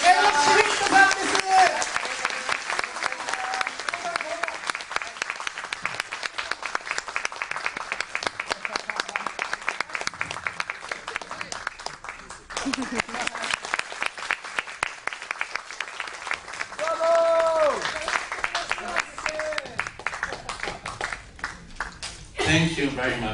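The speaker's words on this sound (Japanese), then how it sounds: "温かい拍手、本当に拍手ありがとうございます。" An audience applauding to welcome a speaker at a festival event, steady dense clapping that lasts throughout, with a voice speaking over it near the end.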